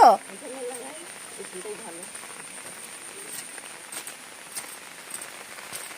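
Monsoon rain falls outdoors as a soft, steady patter on surfaces, with a voice briefly heard at the start.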